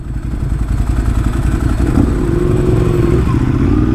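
A Ducati Panigale motorcycle passes close by, its engine a loud continuous roar with a rising rev partway through, heard over steady road and wind rumble.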